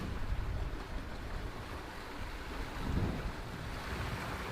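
Sailboat running downwind under a genoa alone across building ocean swells at about 4.5 to 5 knots, with a steady broadband wash of water and wind noise and a brief louder surge of sea midway.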